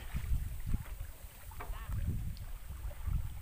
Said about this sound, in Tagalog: Nakasakay kami sa bangka.